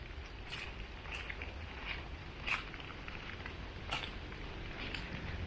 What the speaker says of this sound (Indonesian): Ini hujan teman-teman.